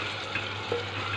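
Onions sauté in a pan for stuffed mallow leaves, giving a brief, soft, even sizzle with no voices.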